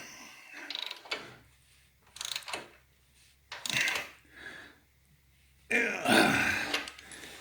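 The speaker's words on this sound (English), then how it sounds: "You just lay the wrench down on the frame and just start to tighten it up." A wrench tightens a bolt on a Harley-Davidson Softail drive pulley, giving several separate bursts of clicking, ratcheting metal sounds with quiet gaps between them, close up.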